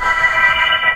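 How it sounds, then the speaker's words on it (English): A synth pad sample played back in Ableton's Sampler, a bright, sustained and shimmering layered tone held steadily for a second, loud and alone. "I imported a pad that has a lot of different things going on in it"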